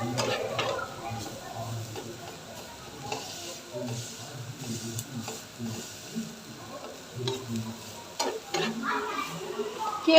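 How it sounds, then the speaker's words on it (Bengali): Coriander leaves frying with yardlong beans in a pan make a soft steady sizzle, broken by irregular stirring scrapes and light utensil taps close by. "সাথে একটু ধনে পাতা হালকা করে ভেজে নিচ্ছি"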